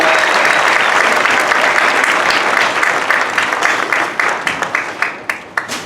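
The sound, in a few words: applause at high school graduation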